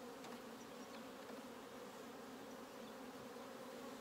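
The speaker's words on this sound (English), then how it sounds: "I want the bees that are flying to fly" Honey bees fly around an opened nuc box during a spring split, a steady dense buzzing hum from many insects close by, with no talking.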